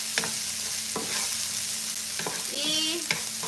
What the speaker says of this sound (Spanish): sofreímos aquí unos segunditos. cebolla y tomate juntito